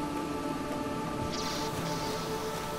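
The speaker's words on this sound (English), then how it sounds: "It's raining." Steady rain falls in the video game The Planet Crafter, a dense, even hiss of drops on surfaces that holds constant throughout with no voices.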